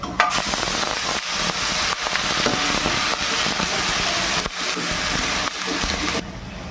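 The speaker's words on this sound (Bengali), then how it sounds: "দিয়ে দিচ্ছি এবার পেঁয়াজ বাটা।" Onion paste hitting hot oil tempered with garam masala for chicken dak bangla, giving a loud, steady close-up sizzle and frying crackle that runs almost unbroken, with a few brief dips.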